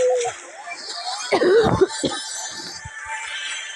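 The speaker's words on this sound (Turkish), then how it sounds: "arada öksürükler oluyor" A few rough coughs from a sick person playing Null's Brawl burst out midway, close and fairly loud, over a steady background hum.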